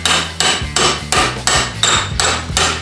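Seven sharp, evenly spaced hammer blows ring out on a metal floor repair panel for a Fiesta XR2 as it is bent to 90 degrees in a vise. The strikes are close, loud and metallic, with no talking.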